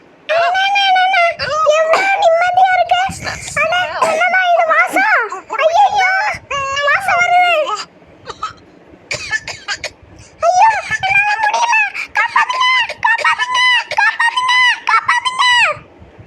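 A teacher character in the game Prankster 3D screams for help, a loud, strained, wailing cartoon voice in long, rising and falling bursts broken by short pauses.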